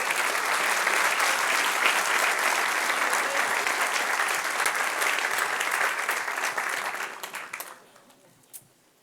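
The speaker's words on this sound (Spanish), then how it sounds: "Dale un aplauso al Señor" A church congregation claps together in a sustained, fairly distant wash of applause that holds steady, then thins and fades out over the last second or two.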